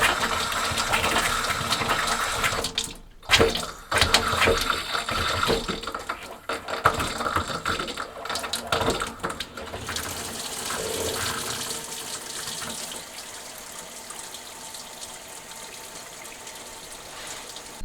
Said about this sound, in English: there is water coming out of the tap